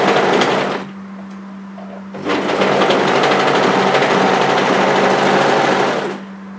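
An overlocker runs along the underarm seam of a dress in two bursts, a fast loud mechanical whir that pauses briefly and resumes for several seconds, close by with no speech.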